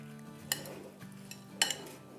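Spoon stirring a sandwich filling seasoned with black pepper in a bowl, giving two sharp clinks against the side amid soft mixing scrapes, close and fairly quiet.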